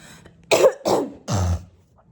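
Three sharp, close coughs in quick succession, the last one lower and rougher, with near silence around them.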